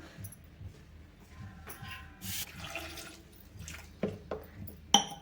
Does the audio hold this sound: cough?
no